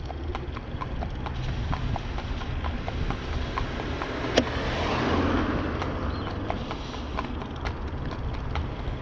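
Horse hooves clip-clop on a road in a steady, even rhythm at moderate distance under constant wind and road noise, with one brief sharp click partway through.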